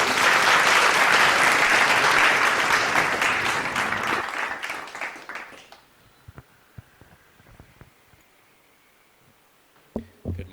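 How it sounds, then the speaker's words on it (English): An audience in a hall welcomes a speaker with strong, sustained applause that fades out after about five seconds, leaving quiet room noise broken by a few scattered claps and knocks. "Please give him a big round of applause."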